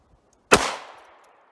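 A single loud gunshot from a Remington HTP 158 grain .38 Special +P round fired outdoors in snow into gel, a sharp crack with a ringing tail fading over about a second.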